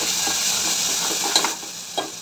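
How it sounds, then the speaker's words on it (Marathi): Chili powder, turmeric, coriander and cumin powders with tomato purée are stirred in a hot pan for misal, a loud close sizzle with scrapes of a spoon and a couple of sharper spits. "आता चांगल्या प्रकारे याला मिक्स करूया।"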